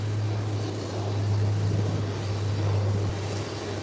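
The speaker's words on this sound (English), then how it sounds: "There's the Beechcraft 1900 sailing down smoothly" A Beechcraft 1900 aircraft takes off at Howard Hamilton International Airport, its engines a loud, steady, close drone that holds throughout with no voices.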